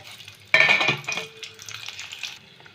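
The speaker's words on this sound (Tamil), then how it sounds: "இப்போ எண்ணெய் ஊற்றிட்டோம் இதில் ஒரு பிரிஞ்சி கருவேப்பிலை" A bay leaf and curry leaves hit hot oil with a sudden loud crackling burst that settles into a softer sputtering sizzle, close by and without talk.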